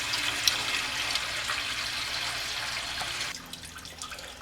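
Coolant pours steadily from the radiator of a Mercedes 300D into a drain pan, a continuous close splashing wash that cuts down abruptly near the end to quieter dribbles.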